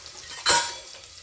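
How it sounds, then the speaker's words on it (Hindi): Finely chopped dried garlic dropped into a hot pan for browning while cooking a winter mooli and radish-leaf sabzi, giving a sudden close burst of sizzle and clatter that fades into a softer frying hiss, with no talking. "इसमें पहले हम ये सूखी लहसुन डालेंगे जो मैंने काट के रखी है, बारीक काट के रखी है, वो लहसुन डालेंगे और इसको थोड़ा ब्राउन करेंगे हम।"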